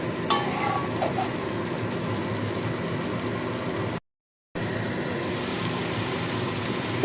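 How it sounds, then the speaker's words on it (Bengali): Spice masala cooking in a pan on low heat, a soft even sizzle and faint stirring that stops for a half-second gap before carrying on, with a few light clinks near the start. "খুব ভালো করে মশলাটাকে কষিয়ে নেব আমি আঁচটাকে একদম লো করে দিয়েছি"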